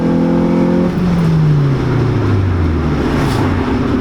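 A Honda CRX Del Sol with a B16 engine revs hard through the gears into VTEC, a loud, close, continuous engine roar. Its pitch drops at a gear change and then climbs steadily again, with no voices over it.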